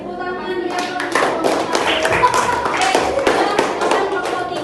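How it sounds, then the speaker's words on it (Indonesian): Classroom of children clapping together, a dense, close patter of hands with some scattered young voices mixed in, steady for several seconds. "Oke, tepuk tangan ya."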